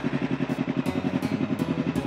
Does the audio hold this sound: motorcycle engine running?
yes